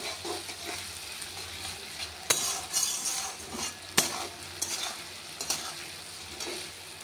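Onion, ginger, garlic and spices fry in a pan for a Bengali fish curry with potatoes, a steady sizzle under repeated scraping and stirring strokes of a new metal spatula, with sharp clinks against the pan.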